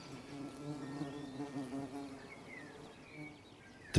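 Steady, soft buzzing of bees around old apple orchard trees in flower, with a wavering hum, several insects droning nearby, quiet and continuous.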